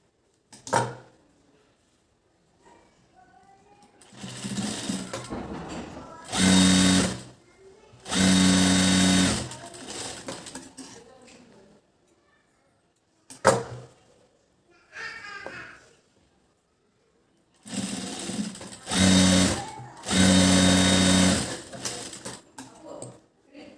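A sewing machine runs in several bursts of rapid stitching along both sides of a blouse, with short pauses and quiet handling noises between the runs, heard up close.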